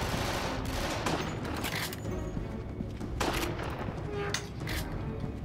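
Dense gunfire rattles continuously in the Resident Evil Darkside Chronicles video game, loud sustained shots layered over game noise and music.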